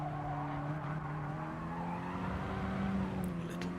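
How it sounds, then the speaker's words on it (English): Close, loud onboard engine note of a Mini Cooper race car in a Mini Cooper Cup race at Tsukuba Circuit, a steady droning tone with slight pitch wavers as the throttle is blipped, continuous throughout with no voices. "Blips of the throttle there from Pajonsky."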